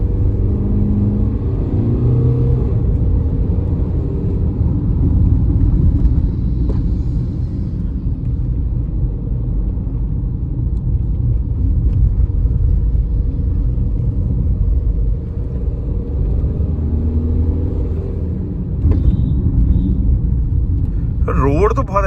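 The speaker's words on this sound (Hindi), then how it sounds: "अब मैं थोड़ा सा उसको थ्रॉटल देता हूँ।" Tata Sierra car driving on a wide road at night, a steady low engine and road rumble building gently under throttle, continuous and fairly loud throughout, with no voices.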